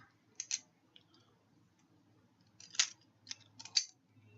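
A butterfly knife is flipped open and closed, giving quick clusters of light metallic clicks and clacks, close and fairly quiet, separated by near-silent pauses.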